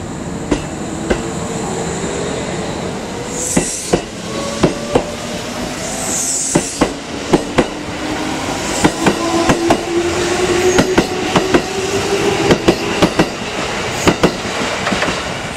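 A Kintetsu Nagoya Line express train pulls into Shiroko station, with repeated wheel clacks over rail joints, rising and falling pitched tones of the motors and brakes, and a steady rumble that stays loud and close throughout.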